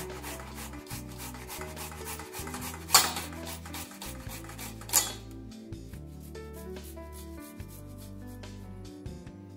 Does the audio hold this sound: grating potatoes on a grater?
yes